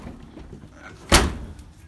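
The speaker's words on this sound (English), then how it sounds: "Do have vertical doors." A vertical door on a supercharged 3800 V6 1988 Pontiac Fiero GT shuts with a single sharp, close slam amid quiet surroundings.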